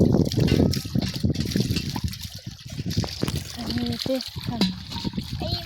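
At a village farm, water pours and trickles steadily as hands and a water pot are washed, running under continuous talking from girls nearby.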